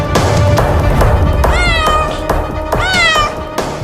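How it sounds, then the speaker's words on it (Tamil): A cat meows repeatedly, several drawn-out rising and falling cries that stand out clearly over a loud, dense background of music and ambience. "பூனையா?"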